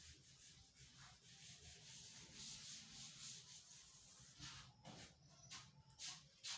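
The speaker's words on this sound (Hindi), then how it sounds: "यहां से इसको रब कर देते हैं" A board being rubbed clean of writing in a classroom makes a steady, close, hissing scrub that continues throughout, with sharper strokes near the end.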